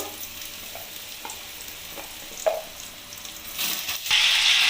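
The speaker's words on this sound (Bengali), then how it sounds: "এবার আমি ওলকপিগুলোকে ভেজে নেব।" Close pan frying with spoon clacks and stirring scrapes, then a sudden loud burst of hissing sizzle near the end as vegetables hit the oil.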